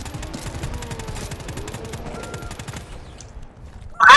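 Rapid automatic gunfire in the video game GTFO, a dense rattling burst that runs for several seconds, fades, then ends with a sharp loud shot.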